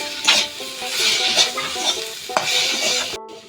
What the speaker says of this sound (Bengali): হালকা করে নাড়াতে হবে যেন তলে না লাগে